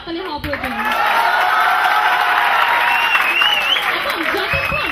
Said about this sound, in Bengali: আমি স্যার এবং ম্যাডামদের উদ্বুদ্ধ করার জন্য আমাদের আরো জোরে হাততালি হওয়া প্রয়োজন